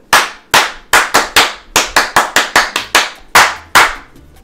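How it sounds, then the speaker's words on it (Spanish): Applause for a studio audience fan on a Spanish-language TV program, heard as a series of sharp, close claps in an uneven rhythm, about fourteen distinct loud strikes with brief gaps between them. "a ver ese aplauso. Es un aplauso"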